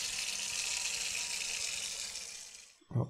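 Water pours steadily from a kettle in a World War II bunker simulator video game, a soft continuous splashing stream that cuts off after nearly three seconds, followed by a low knock.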